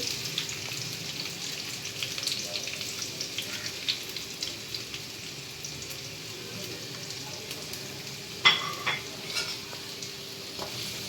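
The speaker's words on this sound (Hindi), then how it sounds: "तो अच्छे से तेज़ आंच कर रही है, इसको अच्छी तरह से फ्राई करना है।" Chopped medium onion frying in a pan over high heat, a steady broad sizzle with occasional stirring scrapes, a brief louder clink near the end, no talk over it.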